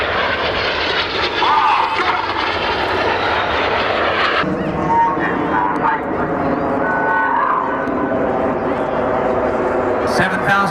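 Red, white and blue striped display jet from the Red Arrows team climbing steeply at the Southport Airshow, its loud, sustained engine roar filling the air with a continuous rushing drone while an announcer talks over the loudspeakers.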